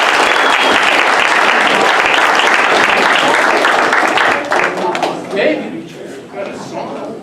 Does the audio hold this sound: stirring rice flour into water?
no